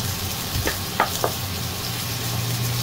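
Tomato, onion and ginger sautéing in a pan, a soft continuous sizzle close by, with a few light taps of a utensil stirring near the start, no talk.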